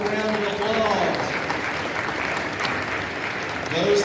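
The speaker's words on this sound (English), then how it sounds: "Give those ladies a round of applause." An audience applauds a state-champion girls' tennis team at a school convocation, a steady, full crowd clapping heard throughout, with a speaker's voice over it at the start and end.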